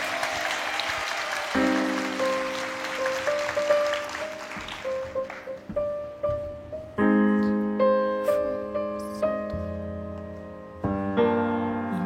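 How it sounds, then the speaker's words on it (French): Studio audience applause on the French TV show École des Fans, bright and full for several seconds, then fading as piano music begins and carries on alone. "mesdames, messieurs, vous pouvez l'applaudir"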